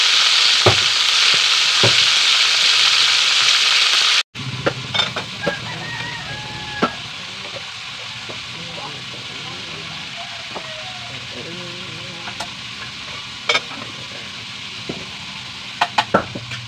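Food fries in a pan with a steady sizzle that fills the first seconds, then continues more quietly under scattered clatter and a person talking, with chickens clucking nearby on an island homestead.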